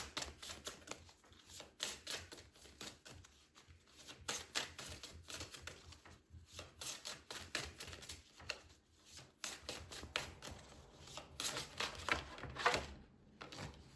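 Oracle cards shuffled by hand, giving rapid papery flutters and riffling clicks in repeated bursts with short pauses, close and fairly quiet, with no talking.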